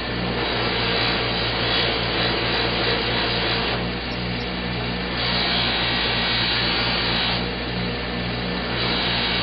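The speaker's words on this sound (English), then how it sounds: "When I'm buffing, I have to be very careful not to change the shape, not to put any shape into it, just to take the marks out." A power buffer polishes a surface for a hydro-cooled Bitcoin miner reservoir build, a loud, steady whirring drone with slight swells in pitch and load across several passes, close and without talk.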